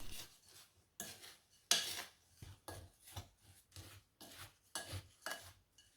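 Plum crumble topping with flaked almonds and caster sugar gets mixed in a bowl, giving repeated close rasping scrapes and rubs in an irregular rhythm, faint and soft between strokes.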